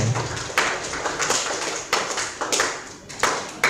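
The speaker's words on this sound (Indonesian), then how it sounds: "Beri tepuk tangan" Classroom applause after a correct quiz answer during a lesson on generative AI: scattered, uneven hand claps from a small group, sparse and moderately close, with a few sharper individual claps standing out.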